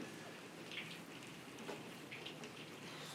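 Steady rain falls at night, a soft, even patter with scattered droplet ticks, continuous and moderately quiet throughout.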